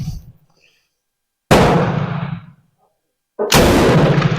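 Bren Mk2 rifle firing at an outdoor range: two loud, sharp shots about two seconds apart, each followed by a ringing, echoing tail, with no talking.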